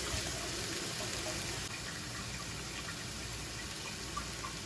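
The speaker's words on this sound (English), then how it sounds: "I'm gonna fry this stuff up to get rid of a lot of the water." Frozen shredded cabbage fries in a pan, making a faint, continuous sizzle and steamy hiss that holds evenly throughout with no voices.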